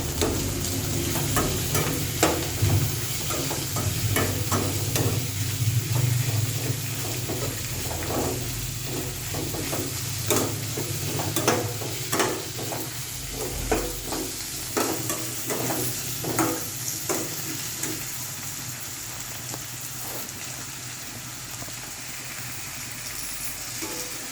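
Vada curry ingredients fry and are stirred in a pan, a continuous close sizzle broken by repeated sharp scraping strokes of the spoon, busiest in the middle stretch before easing toward the end.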